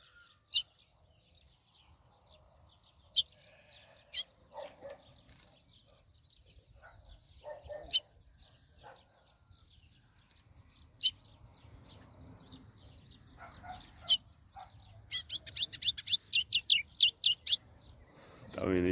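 A caged golinha songbird starting to sing: scattered sharp chirps over quiet room noise, then a quick run of repeated bright notes near the end, with faint background murmurs.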